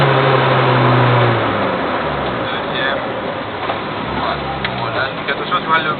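A car engine accelerates during a driving lesson, a mid-pitched drone that rises and settles at moderate loudness while an instructor talks over it.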